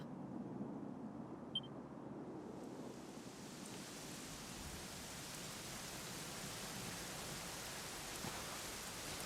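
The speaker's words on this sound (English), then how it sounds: "it was raining like this the last time I ever saw her." Steady rain falls in the video game Dragon Quest XI, a soft even hiss of rainfall that swells in after a quiet start and keeps going alone at a low level, with no talking.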